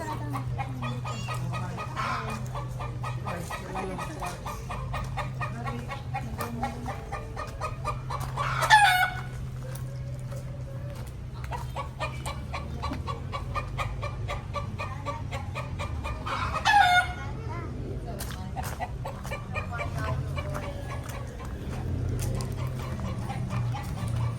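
Chickens cluck steadily in a farm setting after one lays an egg, with two loud squawking calls standing out over a continuous low hum.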